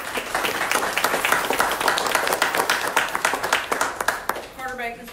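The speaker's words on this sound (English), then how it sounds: "So, big round of applause." Audience applause at a February chamber of commerce coffee morning hosted by a bank, a steady dense burst of clapping with voices mixed in, tapering near the end.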